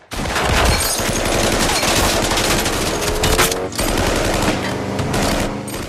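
Rapid machine-gun bursts fill a film shootout as robbers open fire on police, loud and dense, continuous rattling fire with one brief gap before the barrage resumes.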